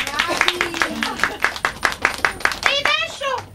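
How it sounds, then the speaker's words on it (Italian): Rhythmic hand clapping from a small audience at a magic show in an Epiphany house event, fairly close and steady, with children's voices calling out over the claps toward the end. "un applauso"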